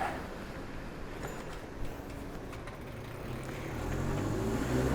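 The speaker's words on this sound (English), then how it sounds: "I can hear a car coming from behind me" A car comes up from behind a cyclist on a narrow Tokyo street, a low engine hum rising and growing louder toward the end over steady wind and road noise.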